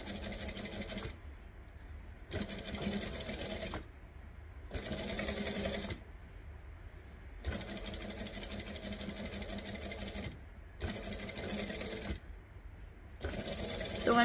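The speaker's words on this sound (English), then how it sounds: "So I'm just stitching this down." Sewing machine stitching fabric in several steady bursts separated by short pauses, a close mechanical whir with no talk.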